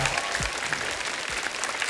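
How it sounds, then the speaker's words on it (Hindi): Studio audience applause on a comedy talk show, a brief burst of loud, dense clapping from a large crowd, steady and close for about two seconds. "जोरदार तालियां हो जाए."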